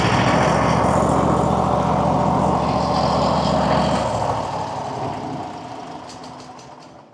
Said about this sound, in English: The electric start seems to work great. It fires right up.